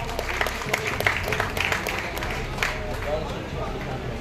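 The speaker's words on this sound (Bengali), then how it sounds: "এটার জন্য একটা জোরে হাততালি পাওয়া উচিত।" Audience at a blood donation event in Kolkata breaks into applause, a dense patter of many hands clapping at moderate distance with faint crowd murmur mixed in, no clear speech.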